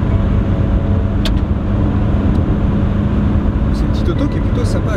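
A 1979 Renault 20 TS with a 2-litre engine and four-speed gearbox cruising at about 100 km/h, giving a steady loud interior engine and road drone while someone talks throughout.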